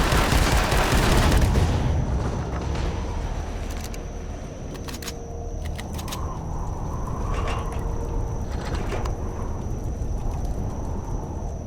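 Bursts of rapid automatic fire from base turrets in Empyrion Galactic Survival, loud at first and then continuing as sharp repeated cracks over a steady rumbling game background.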